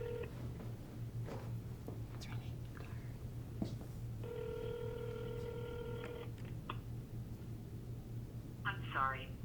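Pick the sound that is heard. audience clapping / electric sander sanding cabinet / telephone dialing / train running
telephone dialing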